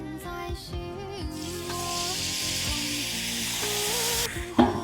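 Flour-water slurry is poured into an oiled flat pan of crisp three-filling potstickers, setting off a broad hissing sizzle that swells and holds steadily under background music tones.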